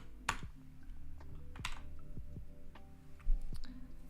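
Several sharp keyboard keystrokes come at an uneven pace over a few seconds, close and crisp against a quiet background.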